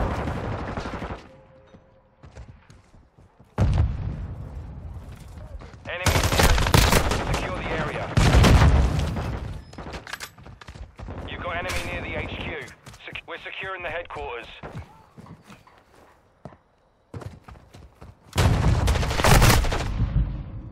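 Call of Duty Modern Warfare 2 gunfire comes as repeated bursts of loud automatic weapons fire and single shots with gaps between, while shouted voices and game radio chatter run over and between the firing.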